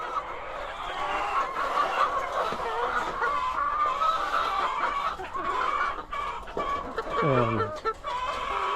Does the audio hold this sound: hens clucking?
yes